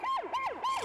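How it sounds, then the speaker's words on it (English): A cartoon rescue vehicle wails its siren in three quick rising-and-falling sweeps, loud and close, with no talk over it. "Pat tends to wail his siren during his sleep."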